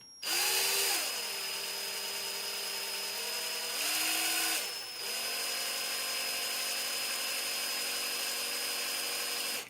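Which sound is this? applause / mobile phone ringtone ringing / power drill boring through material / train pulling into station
power drill boring through material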